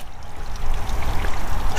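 Full-pressure water spraying onto a 1993 Chevy Camaro Z28, a close, steady hissing rush of spray that grows louder after the first moment.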